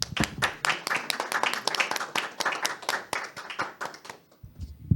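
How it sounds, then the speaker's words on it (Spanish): A small group claps enthusiastically, a dense, brisk patter of hands that thins out and stops just before the end. "Y despedimos a Katia Ortega con un fuerte aplauso."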